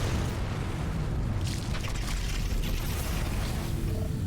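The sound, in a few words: explosion in the video game The Riftbreaker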